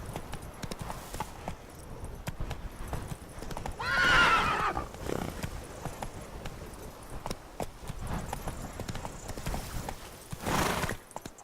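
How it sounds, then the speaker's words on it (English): A horse in the video game Witcher 3 clip-clops at a gallop, hooves thudding steadily, and lets out a loud neigh midway and another whinny near the end. "Run, Roach. Take it easy. Slower."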